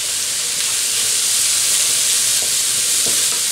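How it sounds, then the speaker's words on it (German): Vegetables, including carrots, fry in oil in a pan with a continuous close, loud sizzle and hiss, broken by faint stirring scrapes near the end. "Und brate jetzt unsere Sajarka ein bisschen an."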